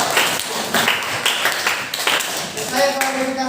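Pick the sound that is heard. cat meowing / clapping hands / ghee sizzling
clapping hands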